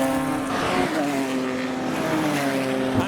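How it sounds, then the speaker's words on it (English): Race cars roar past on a track's pit straight, a loud continuous engine note with shifting pitch as they fly by close at speed. "let's head to the pit straight and see some flybys"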